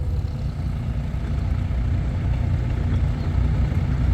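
A restored vintage tractor at a machinery rally tractor pull idles out of gear, a steady low engine rumble holding evenly throughout with no distinct changes.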